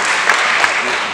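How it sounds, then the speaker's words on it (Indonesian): Brief burst of audience applause at a Javanese dance talk and performance during a 2022 Javanese cultural week, dense continuous clapping that holds steady at close range for about a second. "Boleh tepuk tangan sekali lagi buat beliau."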